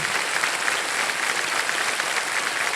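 Steady, dense applause from a TV game show studio audience for a contestant winning 7.5 lakh rupees, continuous clapping throughout with no pauses.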